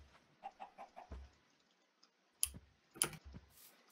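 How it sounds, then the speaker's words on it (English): Chickens cluck in a blocky Minecraft-style survival game: a quick run of soft, evenly spaced clucks, then a few sharper clicks and pecking sounds a little louder, with no talking. "Ooh, more chickens."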